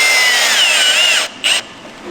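A power tool drives bolts in, a loud close high-pitched whine that wavers in pitch, then stops, gives a short second burst and falls quiet.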